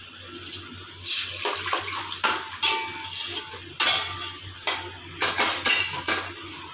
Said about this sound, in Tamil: வந்து கரைச்சி வச்சுருக்க புளியை ஊற்றிக்கலாம்